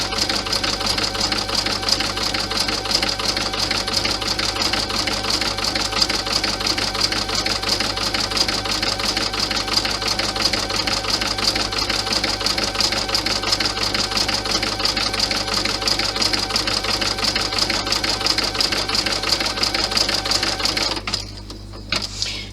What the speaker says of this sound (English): When it's finished stitching this seam, it will stitch the placement for the first boxed corner.